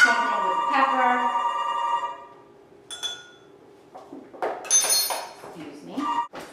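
A telephone ringing in a home kitchen, a bright electronic ring tone that trails off, followed by clinks and clatter with someone talking over it.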